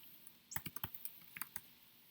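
Short bursts of key clicks on a computer keyboard typing a command into Terminal, close and crisp, in two uneven clusters with brief pauses.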